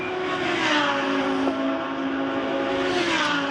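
A Porsche GT race car at the Macau Grand Prix GT Cup practice session sweeps past the timing line, a steady loud engine whine with a sustained high-pitched tone that rises and eases slightly as it goes by.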